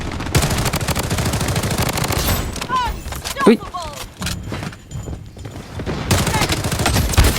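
MP5 submachine gun fire at close range in the shooter game Blood Strike: dense, loud bursts of rapid automatic shots fill most of the stretch, with a brief quieter gap in the middle before the firing resumes.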